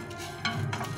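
Whole spices with cardamom dry-roasting in a pan, a brief close rustle of scraping and stirring over a soft steady hiss.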